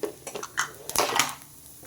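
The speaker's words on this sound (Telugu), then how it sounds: "ఇప్పుడు దీంట్లోనే మనం రఫ్గా కట్ చేసి పెట్టుకున్న ఉల్లిపాయలు వేసేసుకుంటున్నా" Roughly chopped onions tipped into a cooking pan make a quick, close clatter of light knocks and scraping lasting about a second, with no talking.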